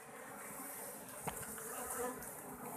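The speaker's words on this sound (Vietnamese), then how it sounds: "đây là ong mật vách đá, trong vách đá nhé" Cliff honey bees buzz around their nest in a rock face, a faint, steady swarm drone at a distance with a couple of louder passes close to the microphone.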